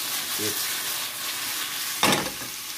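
Food cooks in a covered pan with a soft, steady sizzle, and a brief clatter breaks through partway, likely from the lid.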